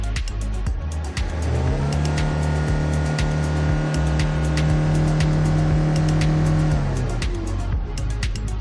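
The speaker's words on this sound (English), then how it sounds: "Can you hear the engine sound?" A 2007 Kia Bongo III double-cab diesel truck engine runs loud and close, its tone rising as it revs up, holding steady, then dropping back to idle, with a rhythmic ticking throughout.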